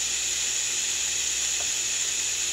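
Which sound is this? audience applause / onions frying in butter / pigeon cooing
onions frying in butter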